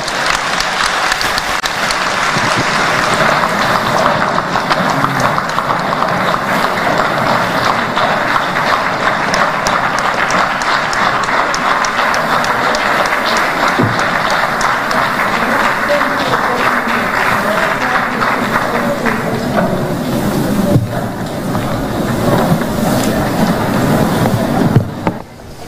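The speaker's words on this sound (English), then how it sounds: "Another round, big of applause." Sustained, dense audience applause fills a lecture hall at a university public lecture, continuous and steady throughout with a brief swell near the end.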